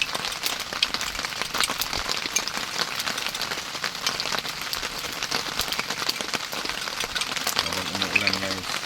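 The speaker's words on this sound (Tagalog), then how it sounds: "Habang umuulan guys." Heavy rain while camping at a farm, a dense, continuous patter and hiss of drops on surfaces, loud and close, lasting throughout without talk.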